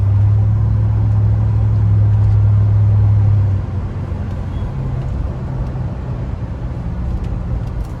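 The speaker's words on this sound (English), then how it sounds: "it'll stay in that gear and just go all the way up the rev range." A 2003 Chevy SSR engine drones loudly inside the cabin, a strong steady low hum that holds for several seconds, then drops to a quieter road rumble for the rest.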